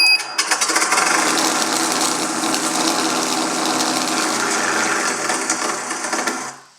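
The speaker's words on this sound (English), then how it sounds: "therefore it immediately started the engine sound" Simulated engine sound from a Sense Innovations ESS-AIR sound system, a loud, close mechanical rattling chug with a busy ratcheting texture that starts abruptly, runs steadily, and then cuts off.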